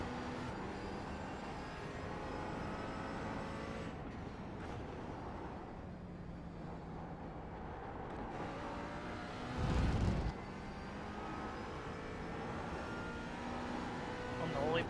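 A McLaren GT4 race car in a sim racing game at Sebring drones steadily with a layered engine tone through the whole stretch, rising and easing slightly, with a brief louder burst near the middle.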